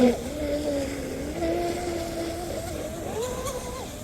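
A Proboat Blackjack 42 RC boat runs on water, its small electric motor a thin rising and falling whine at moderate distance, with light wind noise around it.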